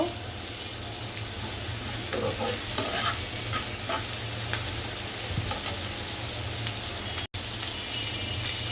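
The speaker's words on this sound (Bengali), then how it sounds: "আমি এই পেঁয়াজটা, চিংড়ি মাছটা আগে একটু ভেজে নিয়ে তারপরে মশলাগুলো এক এক করে সব দিয়ে দিব।" Onion and prawns frying in a pan, a continuous close sizzle with scattered pops and crackles, plus a low steady hum underneath.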